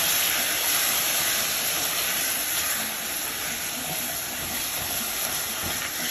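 Butternut squash sautéing in a pan after a splash of water is added gives off a steady, even steam hiss and sizzle, close and continuous, with no voices.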